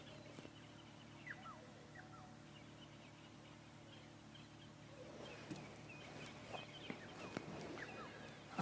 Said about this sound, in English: Egyptian geese.